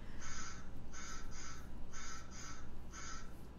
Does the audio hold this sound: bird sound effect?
yes